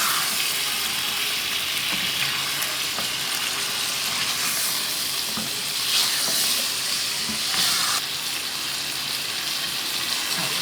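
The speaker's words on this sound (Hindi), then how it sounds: "मज़ीद मैंने इसको अदरक लहसुन के पेस्ट के साथ और अच्छा सा भून लिया है" Chicken karahi with ginger garlic paste fries in a pan, a continuous loud sizzle and steamy hiss with faint scraping stirs now and then, close and unbroken throughout, no voices over it.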